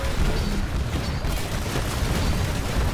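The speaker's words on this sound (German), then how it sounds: "da habe ich noch eine Granate reingeworfen. Die ist in mir selbst explodiert." Grenade exploding in the video game Titanfall, a dense, loud, sustained roaring burst of broadband noise lasting the whole moment with no talk.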